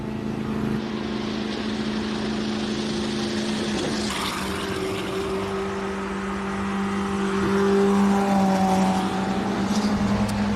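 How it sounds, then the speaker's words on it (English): A hillclimb race car misfiring on about three cylinders drones steadily at a distance, its uneven engine hum holding level with slight swells in pitch, with no one talking. "Sounds like it's only running on about 3 cylinders."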